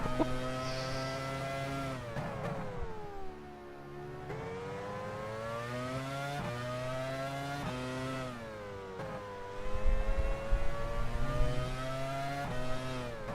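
Formula 1 car engine in the racing game F1 Challenge, a sustained high-pitched whine rising and falling through gear changes and revs, continuous and loud with no voices over it.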